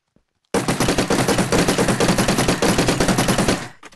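Rapid automatic gunfire from a weapon in the video game GTAcraft: a loud, continuous burst of evenly spaced shots lasting about three seconds after a brief silence, then cutting off.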